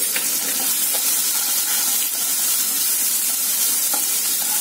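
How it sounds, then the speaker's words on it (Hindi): Semolina (sooji) being stirred in a hot pan for upma, a loud, even hiss of frying with faint intermittent scrapes of the spoon against the pan throughout. "ये मैं सूजी चला रही हूँ"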